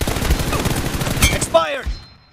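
Rapid game gunfire in BGMI, a dense burst of repeated shots packed close together, then cut off by a short voiced exclamation near the end.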